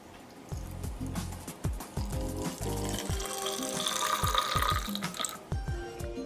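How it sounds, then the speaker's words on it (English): Coffee pours steadily into a blender already holding coconut milk, a continuous liquid splash running for several seconds over a thumping background music beat. "Now I'm going to pour my coffee in."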